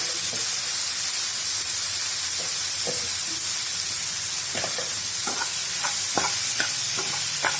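Chopped tomatoes sizzle and hiss steadily in hot oil in a pan for a Kerala-style tomato fry, with a spoon repeatedly scraping and clacking against the pan as it stirs.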